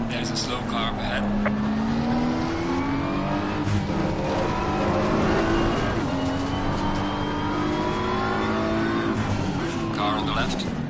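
A race car engine in a racing video game drones loudly and continuously, its pitch rising and falling with the revs, while a voice talks over the steady roar.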